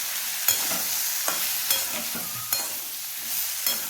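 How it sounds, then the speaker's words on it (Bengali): Vegetables for a spinach dish are stir-fried in a pan, a steady hiss of sizzling oil broken by regular scraping knocks of the spatula about once a second, close and clear with no voices. "এখন আবারও খুব ভালো করে নাড়াচাড়া করে সবজিগুলো একটু ভাজা ভাজা করে নিতে হবে।"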